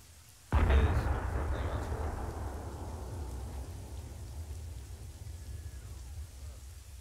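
An artillery shell strikes in the military shooter ArmA 3: a single sudden heavy boom, then a long rolling rumble that fades slowly over several seconds.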